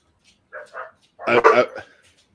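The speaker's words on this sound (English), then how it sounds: "Dogs are just going to be barking" A dog barks close by, a couple of short yips followed by a louder, fuller bark.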